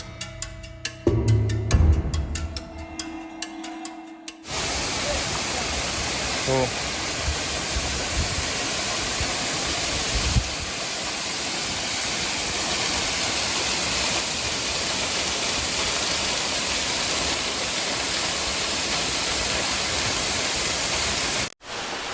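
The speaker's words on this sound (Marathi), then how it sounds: "हा वाघबिळचा धबधबा लहानसाच आहे" Waghbil waterfall near Badlapur rushes as a loud, steady broadband roar. It begins abruptly after a few seconds of other sounds and then holds constant to the end.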